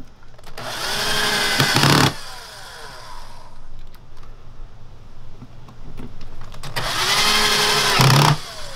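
Battery power drill driving a screw into a wooden beehive body at an apiary, two loud close whirring bursts separated by a quieter pause.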